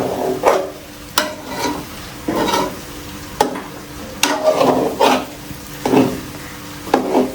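A spoon stirs pizza-style patra sizzling in a pan over a village kitchen fire, scraping in repeated strokes about once a second, loud and close, with frying crackle between the strokes.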